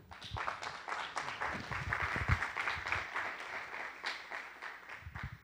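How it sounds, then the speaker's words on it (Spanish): An audience applauds to welcome a speaker at an institutional event, a lively round of clapping with uneven swells, moderately close and continuing for several seconds. "Recibamos con un fuerte aplauso al doctor Antonio Vega Corona."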